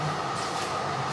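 Steady rumble of a passenger train ride, a continuous rolling drone with low hum filling the whole moment, no talk.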